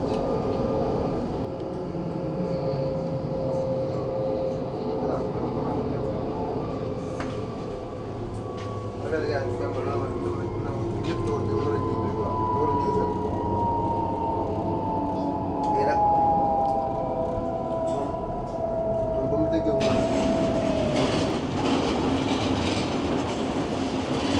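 S-Bahn and other trains rolling into München Hauptbahnhof, a steady rumble of railcars with a long rising wheel squeal and clatter, close and continuous, with a brief burst of louder hiss near the end.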